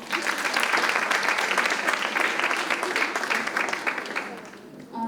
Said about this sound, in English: round of applause to all the girls that danced